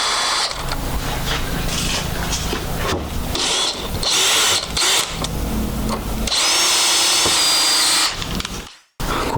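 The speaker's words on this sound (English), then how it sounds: "I'm going to drill all the way through these" A power drill bores through a part of a T-150 transmission from a 1976 Jeep CJ-5, a loud, close, continuous whine with pitch dips as the bit loads and frees, ending in a sudden stop.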